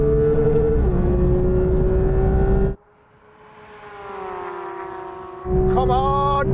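Porsche 911 GT3 in a rolling drag race from 30 mph in second gear, its engine wailing loud and rising in pitch, dropping away abruptly mid-run, then returning with a sharp climbing whine.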